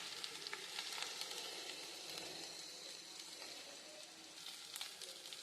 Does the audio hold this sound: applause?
no